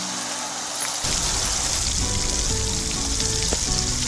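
Catfish frying in hot oil, heard close as a loud, dense crackling sizzle that jumps up after the first second and then holds steady, with no talk.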